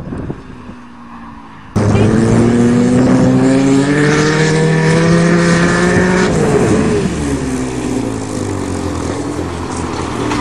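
Two Toyota Corollas, one with a full exhaust, race through a wheat field, their engines droning loudly and steadily up close, with the pitch rising as they accelerate and then falling away.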